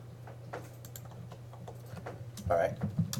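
Keys clatter on a computer keyboard as numbers are typed, a quiet irregular patter of taps that grows louder and busier near the end, with faint voice-like sound underneath.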